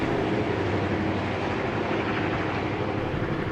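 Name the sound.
train locomotive passing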